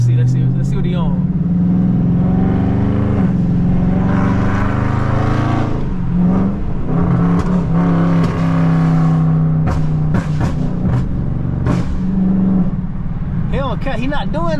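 A tuned Dodge Charger Scat Pack accelerates hard on a rainy road, its loud engine droning and surging steadily throughout, with people talking over it from inside the car.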